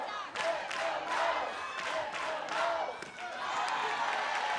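A crowd at an NCAA softball regional game between UCF and Florida State cheers and claps, a continuous roar with bursts of shouting and clapping, moderately loud and sustained.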